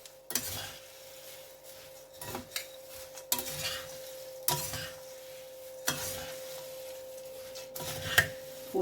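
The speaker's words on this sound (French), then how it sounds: "Et là, sur un feu éteint, je mélange tout ça." Bombay mix with dried fruit being stirred through ghee in a pan off the heat, a series of irregular scraping and rattling strokes of a spoon against metal over a quiet background, no speech.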